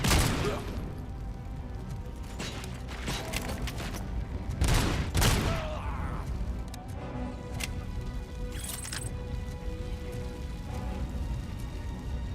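Rapid gunfire from a weapon in the RoboCop: Rogue City video game, dense bursts and heavy impacts layered over a continuous crackling action mix, with a few louder blasts standing out.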